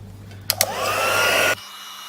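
Embossing heat tool blows a steady, close whooshing roar for about a second over silver embossing powder, preceded by two quick clicks and then cut off abruptly.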